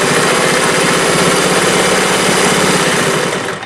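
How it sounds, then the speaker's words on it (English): A vintage Singer 401A sewing machine runs steadily while satin stitching, giving a loud, continuous motor whir with a fast rhythmic mechanical buzz that holds for several seconds and then eases slightly at the end. "So let me show you this actual stitching, and you can see how well this really sews."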